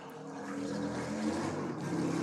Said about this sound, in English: These are some loud motorbikes here.